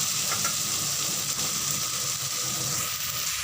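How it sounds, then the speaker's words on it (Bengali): Boiled cabbage drops into hot oil fried with spices for a Bengali cabbage and fish-head dish, giving a steady, moderate sizzle and hiss with faint stirring and no voices. "আমার মশলা দিয়ে তেল ছেড়ে এসেছে, এবার দিয়ে দেবো সেদ্ধ করে রাখা বাঁধাকপি"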